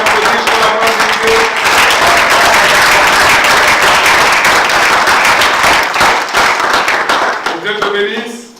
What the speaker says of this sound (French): on peut applaudir pour Dieu